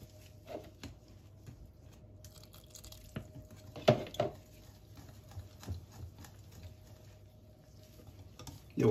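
A whisk or spoon working through orange coconut sponge cake batter made with orange juice and zest, giving soft intermittent clicks and taps against the bowl, with a few louder knocks, fairly quiet and close.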